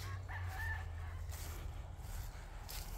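A rooster crows once in a neighborhood setting, a rising then falling call of moderate loudness over steady low background hum and outdoor ambience.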